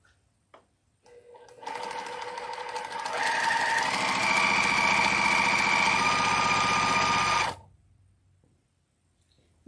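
Sewing machine running steadily for several seconds while a quilt block is stitched, a loud, even mechanical whir that builds slightly and then stops abruptly, leaving near silence.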